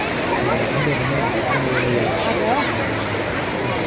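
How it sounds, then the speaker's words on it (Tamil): Waterfall and fast-rushing water at Kodiveri Dam, a steady broadband roar filling the whole clip, with a voice speaking over it and faint crowd babble in the background. "மேலே தண்ணி கீழே நீர்வீழ்ச்சி ரொம்ப நல்லாயிருக்கும். தண்ணி நல்லா வேகமாக வரும்."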